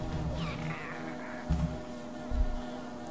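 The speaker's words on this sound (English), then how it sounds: "Pszczół nienawidzę." Bees in the game Hollow Knight's hive give a steady droning buzz with a wavering pitch, joined by a pair of low thuds partway through, with no talking.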